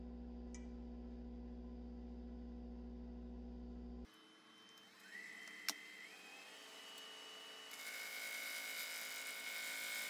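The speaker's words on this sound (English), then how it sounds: "I'm just going to do a quick sharpening of my bowl gouge" A woodturning bowl gouge is sharpened: a steady low motor hum gives way to a thinner, brighter whine with a thin tone and a sharp click, then a louder hissing grind near the end, with no talking.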